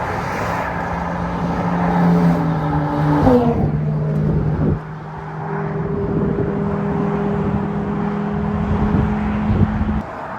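Ferrari F8 Spider RS and GT3 sports cars passing on a Normandy highway, a loud engine howl that rises then drops sharply as they go by, followed by a fading, steady whir of receding engines.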